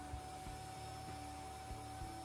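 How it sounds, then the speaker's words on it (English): A Temu spot carpet cleaner runs its vacuum for extraction, a steady whining motor hum with faint periodic thumps, close and continuous, no voices. "I then turn the vacuum cleaner on and it's time to extract the shampoo."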